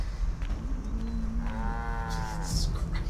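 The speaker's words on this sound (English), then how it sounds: "Was that a cow? That's a cow." A cow in Assassin's Creed III gives a single drawn-out moo partway through, fairly close and clear over steady outdoor game ambience.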